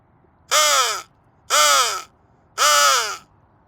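Crows cawing in the morning: three loud, harsh caws spaced about a second apart, each a coarse descending rasp lasting half a second, heard clearly and fairly close against a quiet background.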